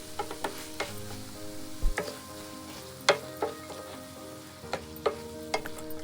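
A spoon clinks and scrapes against a pan as minced chicken and potato curry is stirred over a soft sizzle, with irregular close knocks spread across the stretch and no voices.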